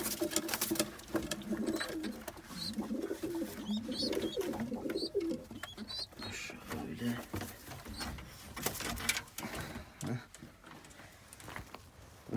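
Feather-footed pigeons cooing softly and repeatedly nearby in a coop, with someone talking over them and some rustling and fluttering.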